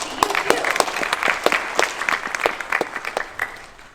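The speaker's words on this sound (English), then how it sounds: "Round of applause to you too." Scattered audience applause at a theatre appearance, moderate and fairly sparse with distinct individual claps, tapering slightly toward the end.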